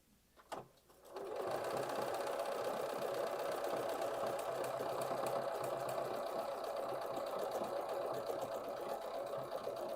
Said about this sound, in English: we're going to watch it sew out. So I'm just going to move the fabric over here a little bit and we'll start sewing again